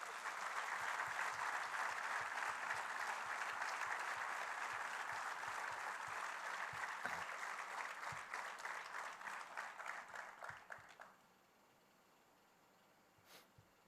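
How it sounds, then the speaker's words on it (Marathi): Audience clapping at a Pune conference introduction, a dense, steady round of applause that thins into scattered claps and stops near the end, leaving quiet room tone. "टाळ्या जरा जोरात पाहिजेत सगळ्यांनी"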